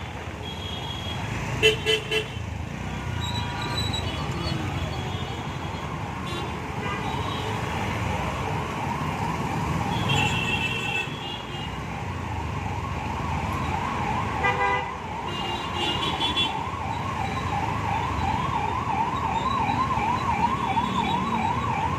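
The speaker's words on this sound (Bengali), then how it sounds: "পিছনে একটা অ্যাম্বুলেন্স আসছে" A wailing ambulance siren cycles steadily through a heavy traffic jam at Kamakhya Gate, with occasional horn toots and engine rumble around it.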